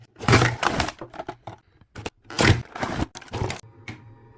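Plastic and cardboard packaging of Tekken action figures of Jin and King being ripped open by hand, a series of close, loud tearing and crackling bursts separated by short pauses.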